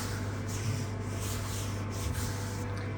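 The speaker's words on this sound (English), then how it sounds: "I'm going to give that another rub to make sure it's as tight a contact as possible." Steady close rubbing across a cyanotype print pressed in a clipped contact frame, a soft continuous scuffing with faint rhythmic strokes over a quiet room hum.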